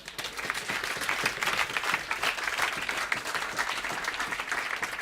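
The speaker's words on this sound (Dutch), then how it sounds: "Even applaus voor jezelf en voor iedereen." A live audience at an IEPENUP concert breaks into dense, sustained applause, clapping thickly and evenly from start to finish at a strong, steady level.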